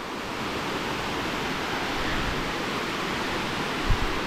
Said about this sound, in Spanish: miren otra cascada, ya son como 3-4 cascadas las que estamos viendo que salen de entre las piedras de arriba